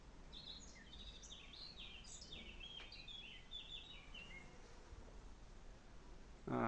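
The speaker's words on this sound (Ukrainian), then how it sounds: "чуєте, як виспівує соловейко там в сусідському саду?" A nightingale sings a rapid sequence of varied, high chirping phrases from some distance in a neighbouring garden, fairly faint, ending before a brief closer rustle.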